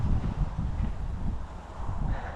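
Steady wind of about 3-4 metres per second buffets the microphone while pike fishing in autumn, low rumbling gusts, a continuous outdoor roar and no voices.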